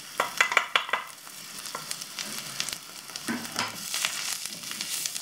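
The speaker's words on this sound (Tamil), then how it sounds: "இந்த பட்டர்லேயே வந்து நல்லா ஃப்ரை பண்ணி விடுங்க 1-2 நிமிஷத்துக்கு" Ground masala sizzling and frying in butter for a keto dry chicken dish, with steady close crackle and a few scraping stirs in the pan, no talking.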